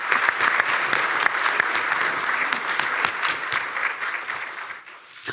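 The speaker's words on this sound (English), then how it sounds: "let's give them a round of applause" An audience at an employer panel event claps steadily for several seconds, a dense spread of hand claps that fades slightly toward the end, with no voices over it.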